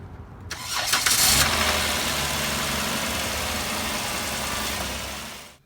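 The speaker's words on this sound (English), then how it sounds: "We'll start it up and see if it's still misfiring or not." A 2006 Chrysler Town and Country minivan's engine is started after a coil change for a misfire: a brief starter crank catches into a loud, steady idle that runs until the clip ends.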